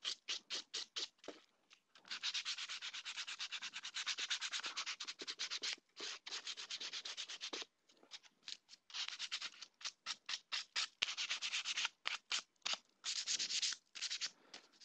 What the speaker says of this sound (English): just go ahead and sand down the entire plate